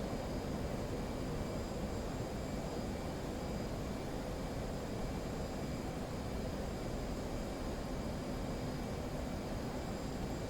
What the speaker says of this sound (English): Autopilot's off, burners are on, climbing up over the target